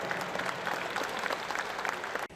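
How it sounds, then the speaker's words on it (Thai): Guests at a ceremony clap together in a brisk, even burst of applause that stays steady and then cuts off abruptly at the close. "ขอเสียงปรบมือให้กับภาพประวัติศาสตร์ชาตินี้ด้วยกันท่านผู้มีเกียรติครับ"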